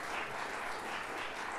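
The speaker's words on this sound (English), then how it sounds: "Please give them a round of applause for sharing their thoughts with us this afternoon." Audience applause after an afternoon panel session on financial models and resourcing, a steady wash of many hands clapping at even volume, no voices over it.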